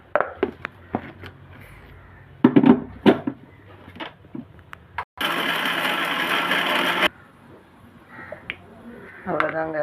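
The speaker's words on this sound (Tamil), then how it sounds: "இது ஒரு மிக்ஸி ஜாருக்கு மாற்றி நம்ம அரைச்சி எடுத்துக்க போகிறோம்." A mixer grinder runs for about two seconds, grinding ridge gourd chutney in a loud, steady whir, with clatter and handling noises before and after it.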